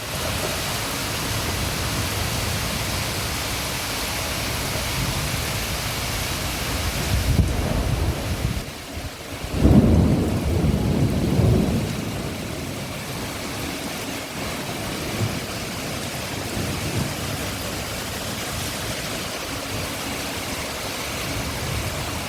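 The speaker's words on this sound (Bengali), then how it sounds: "যেমন মেঘ ডেকেছে বিদ্যুৎ চমকেছে হাওয়া দিয়েছে তেমনই বৃষ্টিও হয়েছে" A thunderstorm with rain and wind fills the whole stretch with a steady, dense hiss of rainfall, and a deep rumble of thunder swells about a third of the way in before fading back into the rain.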